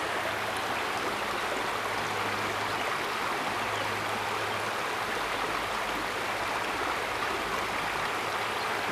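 Creek water flows in a steady, unbroken rush, a dense, even wash of sound with no voices over it.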